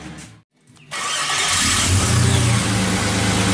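A car engine cranks and fires after work on the power steering pump, then settles into a loud, steady running note that carries on to the end.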